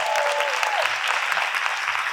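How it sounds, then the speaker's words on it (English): Sustained audience applause fills a charity awards luncheon for a girls' organization, steady and dense with no break for its full length, with a faint voice briefly audible early on. "Give them a big round of applause."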